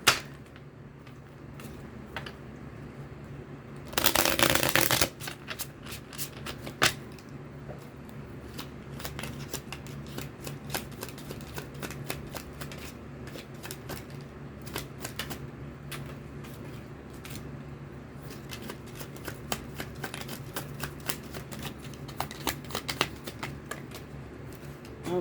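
Tarot cards being handled and shuffled close up: a brief dense riffle burst near the start, then many light scattered flicks and taps of cards over a quiet background, no talking.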